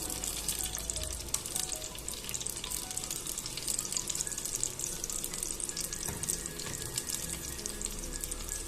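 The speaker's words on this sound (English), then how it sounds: "Once the oil is heated up properly, you need to add onion shallots or onion" Onion shallots fry in hot coconut oil for a Kerala village-style coconut fish curry, giving a steady, dense sizzle that runs unbroken for several seconds at moderate level, with no voices.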